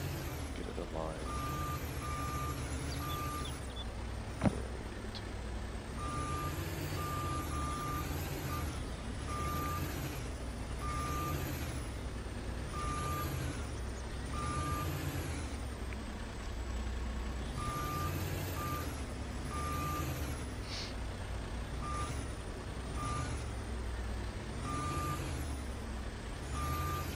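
In Farming Simulator 22, a truck backs up with a trailer dolly, its steady diesel drone under regularly repeating reversing beeps, with an air-brake hiss and talk over the engine.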